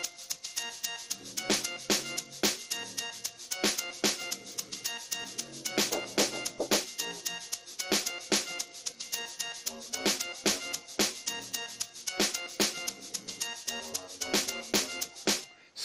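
An amapiano log drum in FL Studio Mobile thumps through a full, steady groove with dense percussion and sharp transients, looping continuously for several bars without any talking.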